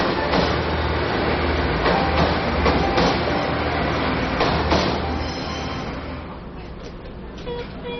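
A narrow-gauge railway train on the Pingxi line rumbles and rattles steadily along the tracks, with clanking wheel noise that gradually eases and grows quieter near the end; a voice talks over it.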